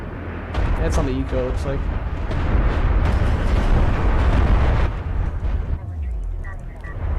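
Heavy artillery explosions from a siege barrage in Homeworld: Deserts of Kharak, a dense, continuous rumble of booms across the desert battlefield, with a commentator talking over the blasts.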